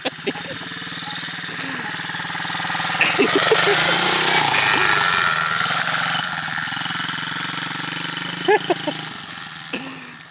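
An SSR 110 dirt bike engine buzzes close by, rising into a louder, raspy rev midway and then easing back, with short knocking bursts, ridden by a novice rider, with a few voices in the background.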